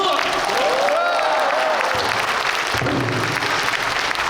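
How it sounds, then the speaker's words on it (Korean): Applause at an outdoor pansori performance of Heungbuga in Seoul, with a singer's voice and shouts over the clapping; the crowd noise shifts partway through as the vocal line continues. "큰 추임새 소리와 함께 박수 소리와 함께 시작해보도록 하겠습니다"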